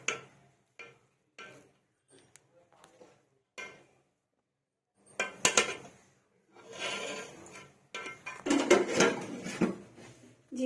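Matar pulao rice being served onto a dish, with scattered clinks and taps of spoons and pans against dishes, building into denser scraping and clattering in the second half.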